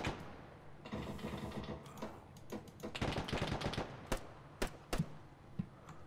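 Heavy gunner firing a machine gun in a military video game with Apache ground support, heard as rapid bursts of automatic fire interspersed with sharp, louder individual shots at close range, with no talking over it.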